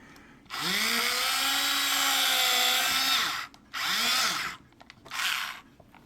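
Power drill with a slightly dull bit boring holes in a model ship, a loud steady whine for about three seconds with pitch rising and falling, then two shorter bursts after brief pauses.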